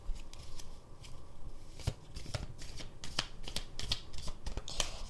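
A deck of tarot cards is shuffled close by, giving a dense continuous riffle with sharp flicking snaps throughout.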